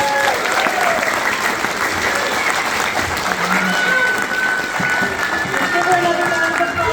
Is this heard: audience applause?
yes